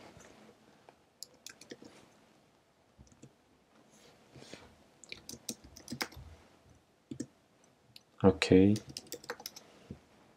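Computer keyboard typing while writing SwiftUI code, bursts of quick clicking keystrokes scattered through the clip with a louder flurry near the end, under and between a man's speech.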